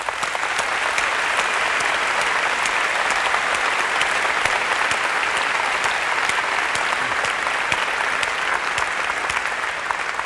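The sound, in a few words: audience round of applause at Macworld keynote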